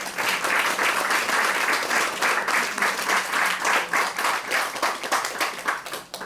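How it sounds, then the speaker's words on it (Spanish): An audience at a book presentation in Miami gives a strong round of applause, steady dense clapping sustained for several seconds and tapering slightly at the end, heard from within the crowd. "Y les pido un fuerte aplauso para ellas."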